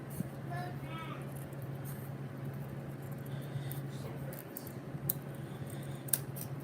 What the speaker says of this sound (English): it's easier for me to cut with my scissors